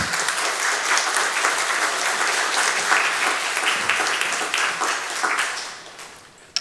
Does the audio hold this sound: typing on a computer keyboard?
no